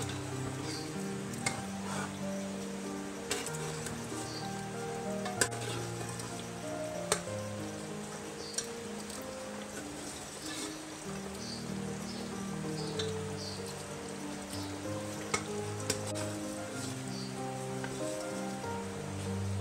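Mutton kunna gravy thickened with a milk and flour mixture bubbles and sizzles steadily in the pot, a dense crackling hiss with scattered pops and occasional light clinks throughout.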